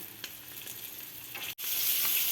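Crucian carp stuffed with potato and roe sizzle steadily in a frying pan, a dense, close hiss with occasional pops and a brief stir, no voices.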